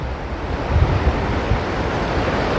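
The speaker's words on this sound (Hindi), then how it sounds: "और ये बहती हुई नदी।" A flowing mountain river swollen and muddy after rain in the high Himalayan valleys between Manali and Jispa, a steady broadband rushing roar heard close, mixed with wind buffeting the microphone.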